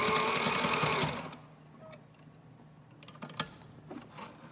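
A sewing machine stitches through several layers of fabric for a reusable surgical face mask, a loud, fast, steady mechanical chatter for about a second before stopping, then faint handling clicks.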